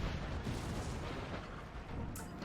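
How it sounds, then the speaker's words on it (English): Artillery fire in a Napoleonic Total War multiplayer battle, with cannon booms blending into a dense, low, continuous rumble that sounds distant and fairly faint, with no voices. "Now you do see that Russia is getting hit pretty hard by artillery."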